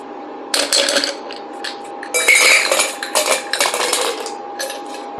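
Cocktail ingredients for a Scotch whisky drink, including fresh lemon juice, are poured and dropped into a metal shaker, with bright clinks and clatters in several close bursts.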